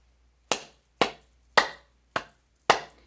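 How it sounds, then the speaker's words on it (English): Five sharp, separate hand claps at roughly half-second intervals, crisp and close in a quiet room, with no talking. "So simple as that, clapping."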